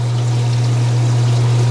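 Water discharging through a line during an automated aquarium water change, a loud steady rushing flow over a constant low pump hum, uninterrupted for the whole moment.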